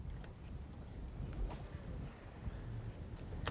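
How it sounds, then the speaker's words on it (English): Strong wind over rough lake water buffets a fishing boat, producing a steady low rumble of gusts and microphone wind noise with occasional faint knocks and splashes. "That's just too much wind out there."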